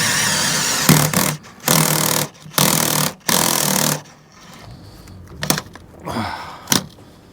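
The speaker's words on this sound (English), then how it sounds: "Alright, drilling." A power drill bores a hole through a boat's fitting area in loud bursts, four steady whirring runs of about a second each, followed by scattered knocks and brief shorter spins.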